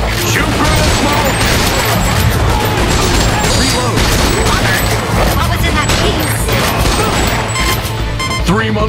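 Dense, continuous gunfire from Time Crisis 5 as players shoot through smoke, loud and sustained with crashes and booms layered throughout, and voices present in the mix.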